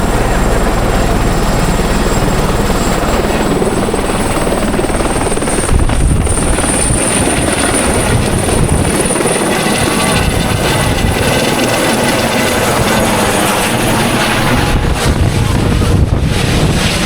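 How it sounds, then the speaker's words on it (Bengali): A helicopter lifting off from open ground: a loud, continuous rotor roar with heavy wind buffeting the microphone, sustained and close throughout. "দেখছেন যে চলে গেল হেলিকপ্টার, কদমবাড়ির মাটি থেকে আকাশে উড্ডয়ন করলো হেলিকপ্টার।"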